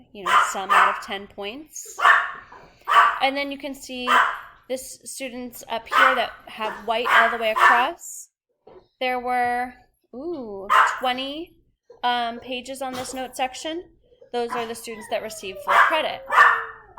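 A dog barks repeatedly nearby in sharp yippy bursts, mixed in with and partly under a person talking steadily throughout.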